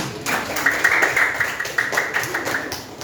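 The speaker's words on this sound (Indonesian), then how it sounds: "Silakan kasih tepuk tangan." Elementary classroom students clap for a classmate, a moderately loud burst of many small hands with children's voices calling out over it for about three seconds.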